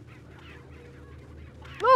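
A chicken in the Resident Evil 4 village gives a single loud, sharp squawk at the very end, breaking a quiet, low ambient game background.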